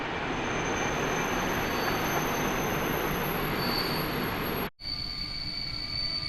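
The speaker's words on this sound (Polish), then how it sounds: "stara lokomotywa EP08011." A train hauled by the old EP08 electric locomotive EP08011 comes in at snowy Warszawa Zachodnia, its wheels squealing in a high, sustained screech over steady rolling rumble, close and loud, with a brief cut near the end.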